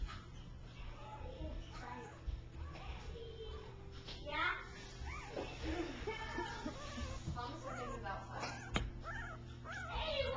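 One-week-old puppies whimper and squeak in thin, wavering cries that rise and fall throughout, with a faint low hum beneath.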